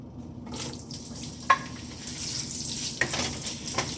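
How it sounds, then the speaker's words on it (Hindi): About a cup of chopped onions hits four tablespoons of hot oil for a bhindi goat meat fry, giving a steady close sizzle and hiss with a few sharp clinks of utensils against the pan. "4 टेबल स्पून ऑयल है। इसके अंदर हम पहले डालेंगे अनियन। ये चॉप्ड अनियन है"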